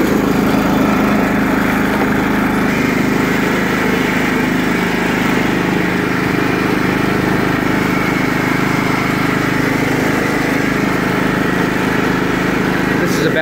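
A 2000 John Deere LT155 lawn tractor engine runs steadily while the mower is driven, a loud, close, continuous drone with a constant hum and no talk over it.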